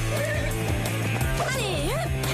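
A cartoon draft horse gives a loud, rising and falling whinny, mixed in with music and other soundtrack noise.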